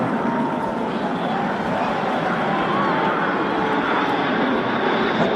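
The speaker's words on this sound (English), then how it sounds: "That's a bunch of jets." A bunch of jets roaring overhead, a steady, loud, broadband engine rumble that holds without a break.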